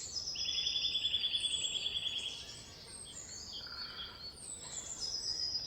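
A bird calls outdoors on a nature walk, giving clear high whistled notes and short chirps in a few repeated phrases, fairly near against a quiet background with no talking.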